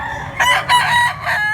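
A gamefowl broodcock crows close by in a single strong, drawn-out call with a few rising and falling bursts, loud over a faint low background rumble.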